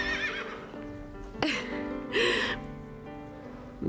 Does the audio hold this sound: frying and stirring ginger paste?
no